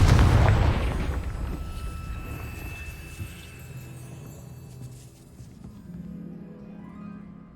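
A Confringo spell blast in Hogwarts Legacy on PS5 bursts loudly at the start, then its rumbling explosion decays into a long fading roar with faint debris and ambient game sound.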